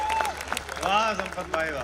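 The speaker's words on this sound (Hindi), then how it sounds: "तालियां कम बज रही है" Scattered audience clapping at a Hindi kavi sammelan poetry gathering, moderate and close, running under a man's enthusiastic spoken praise.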